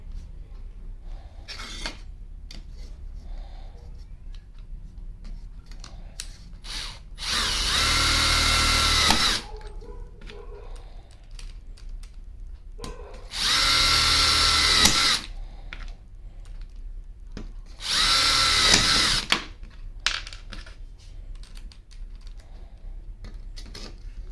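A Bosch GDR 180Li 18V cordless impact driver sinks self-drilling screws into metal in three loud, sustained bursts of a couple of seconds each, separated by quieter handling noise.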